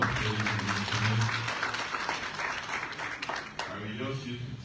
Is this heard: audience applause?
yes